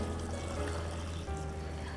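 Water poured into a mixing bowl holding azuki red beans, a steady, full rushing splash that stays even and close throughout, with no voices.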